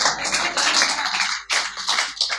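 An audience claps at a Hindi poetry recital, a dense burst of applause that dips briefly and resumes.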